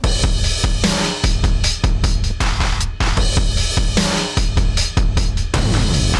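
A fast drum machine beat at about 150 BPM pounds out punchy kicks, snares and hi-hats in a driving, steady pattern, loud and up front with no talking.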